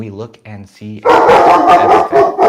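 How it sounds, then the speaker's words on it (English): A pet dog barking at someone at the front door during an indoor live stream, a rapid run of loud, close barks following a few words of speech. "Sorry, that's my dog."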